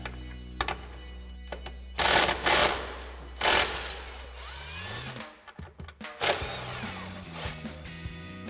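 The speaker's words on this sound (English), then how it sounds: "Again with our 12mm socket on our impact." Impact wrench with a 12mm socket driving bracket bolts on a 2022-2024 Toyota Tundra side step install, several loud rattling bursts of hammering separated by short pauses, close up.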